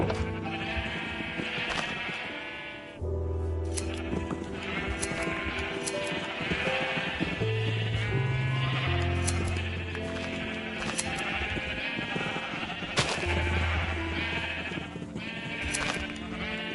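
Sheep in the Minecraft video game bleat repeatedly over a steady game background, with several short, clear bleats scattered across the stretch at close range.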